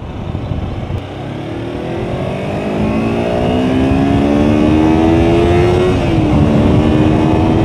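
A Kawasaki Versys-X 250 Tourer motorcycle engine, during break-in, revs up loud and close, pitch climbing steadily to a high sustained whine before dipping slightly at the end.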